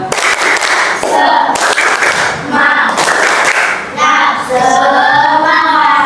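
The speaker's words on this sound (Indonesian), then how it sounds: "Tepuk semangat." Children clap in a rhythmic spirit-clapping routine in an Islamic religious education class, loud patterned bursts of hand claps in groups while young voices chant along.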